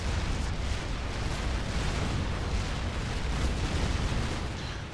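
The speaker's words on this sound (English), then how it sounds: "here comes a volley from the Brackman" Artillery volley explosions from Supreme Commander 2 unit fire, a dense, continuous roar of overlapping booms and rumbling blasts that stays loud across the whole stretch with no clear gaps.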